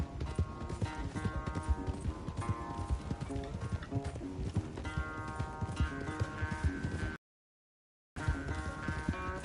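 Rhythmic hoofbeats of a galloping horse in Red Dead Redemption 2 pound steadily under layered game music, cutting out briefly near the end before resuming.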